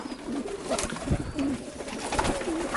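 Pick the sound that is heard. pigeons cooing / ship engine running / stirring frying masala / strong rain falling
pigeons cooing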